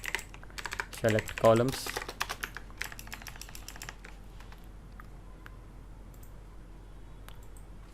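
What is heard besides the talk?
typing on a computer keyboard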